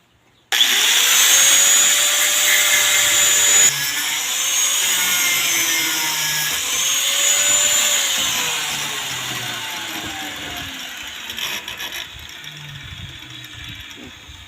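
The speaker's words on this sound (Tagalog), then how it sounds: "Gagamitan natin ng grinder mga kabro para mabilis natin makuha." Angle grinder cutting through copper wires in a rural setting, a loud continuous high-pitched whine that starts abruptly, holds steady with slight pitch wavers, then tapers and roughens toward the end, with no voices.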